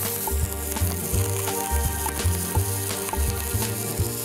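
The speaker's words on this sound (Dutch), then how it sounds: "Mijn olie is ook al goed heet, dus gaan we alles aanstoven" Pancetta sizzles and fries in hot oil, a dense continuous crackle close up, with a rhythmic knocking of utensil or pan underneath.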